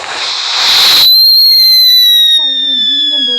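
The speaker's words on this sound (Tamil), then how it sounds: "லாஸ்ட் வெடி இது எப்படி வெடி என்றாங்க" A firecracker goes off in a loud, noisy burst lasting about a second, then a long high whistling tone fades down and lingers, with faint voice-like sounds near the end.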